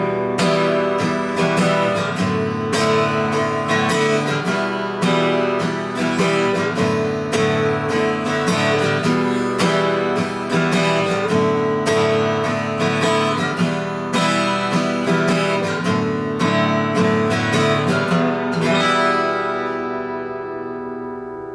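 Acoustic guitar strummed steadily back and forth between two chords in a simple beginner song, a loud, bright and even rhythm played alone and ringing out at the end.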